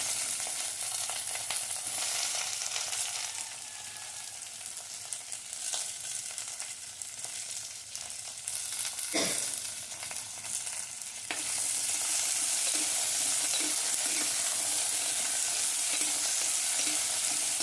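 Chopped okra fries in a pan, giving a continuous close sizzle and crackle with occasional stirring noises. The sizzle grows louder and brighter in the final stretch.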